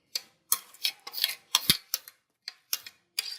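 Minced meat being mixed with chopped onion, green coriander and green chillies in a bowl, heard as a series of about ten distinct, close clicks and taps of a utensil in an uneven rhythm.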